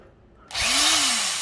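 An old corded electric drill, a garage-sale hand-me-down, spins up abruptly after a quiet moment and runs at a steady, loud whine, its motor pitch rising slightly and then easing down.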